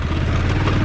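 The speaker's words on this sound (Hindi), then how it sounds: "इसलिए बाइक का साउंड आ रहा है।" A Bajaj Pulsar 220 motorcycle engine drones steadily while riding in Himachal, a loud continuous low rumble mixed with wind noise.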